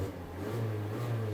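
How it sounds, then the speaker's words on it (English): A 2024 Mazda CX-3's high-compression petrol engine buzzes steadily while driving, a continuous low drone with a faint whir on top and no talk over it. "This engine is pretty noisy. It's high compression. It's just buzzes quite a bit,"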